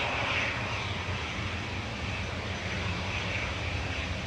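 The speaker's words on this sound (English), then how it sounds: "Flight 753 for Hainan coming in from Beijing," A Hainan Airlines jet on flight 753 from Beijing lands at Manchester without reverse thrust, a steady, moderately loud engine rumble and hiss that stays even throughout, with no voices.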